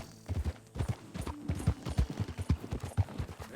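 Horse hooves clip-clop in Red Dead Redemption 2 among a group of Morgan horses: a steady, close run of hoofbeats, loud and rhythmic, with no talk over it.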